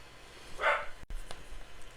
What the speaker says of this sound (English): Can you hear my dog barking?